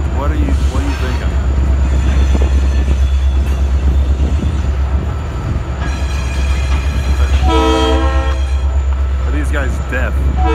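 A train rumbles past close by with a steady heavy roar, and a loud horn blares briefly partway through.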